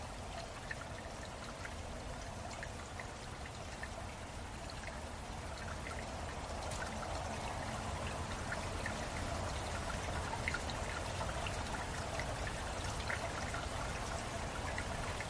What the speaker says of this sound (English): The only sound, aside from the squirrel chatter, comes from a slow, narrow stream running deep